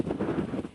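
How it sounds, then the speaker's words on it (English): Strong wind buffets the microphone outdoors near a horse, a low rumbling roar in short gusts with no talking. "It's really windy, so I'm going to continue filming once I'm out of the wind."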